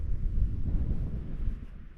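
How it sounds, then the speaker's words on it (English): Strong wind buffets the microphone on a Scottish mountain ridge near the munros Meall Buidhe and Stuc an Lochain, a loud, low, gusting roar that rumbles continuously with no speech. "Very windy"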